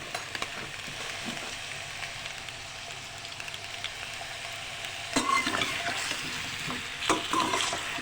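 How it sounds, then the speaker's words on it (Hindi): Sliced potatoes sizzle steadily in hot oil in a home kitchen pan, with a continuous hiss and a few sharper crackles and stirring scrapes toward the end. "ऑयल में डालेंगे हम सबसे पहले आलू। हमें इस आलू को करना है फ्राई।"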